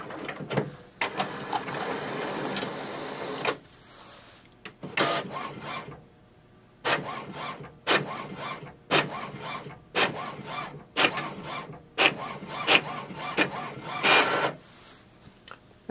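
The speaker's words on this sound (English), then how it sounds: "Click on the print button and it will send a command for the printer." An HP OfficeJet Pro 9018 printer prints a document, with a series of close mechanical whirring and sliding passes broken by short pauses in a regular feeding rhythm.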